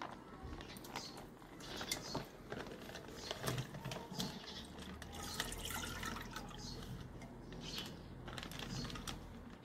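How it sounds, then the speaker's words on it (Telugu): A nearly adult bluefin angelfish is poured with its water into a pot, giving soft splashing, dribbling and trickling with small clicks of handling, fairly faint and close. "ఇది పాట్లో పోసి చూపిస్తాను"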